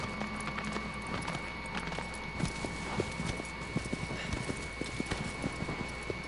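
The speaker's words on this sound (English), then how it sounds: "the horse just starts running all around the countryside" Horse hooves clip-clop at a run through open countryside in the video game Shadow of the Colossus, a steady rapid gallop of repeated thuds over a constant ambient drone, with a brief whinny-like tone.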